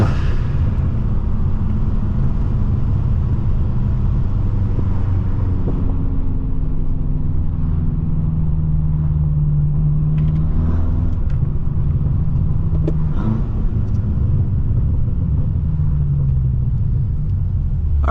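A Stage 2 800-horsepower BMW M6 drives along with a steady, deep engine rumble that swells and eases gently, close and continuous throughout.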